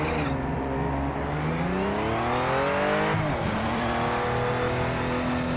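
A race car in the video game Project Motor Racing revs loud and continuous, its engine pitch climbing, dipping briefly, then rising again, with no talk over it.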